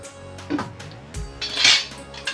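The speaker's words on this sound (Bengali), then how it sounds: "একটা চামচ দিয়ে নেড়ে ফেড়ে যেমন ডুবিয়ে রাখবো" A metal spoon stirs rose-shaped semolina sweets in sugar syrup in a pot, making a few scattered clinks and scrapes against the vessel with quiet gaps between them.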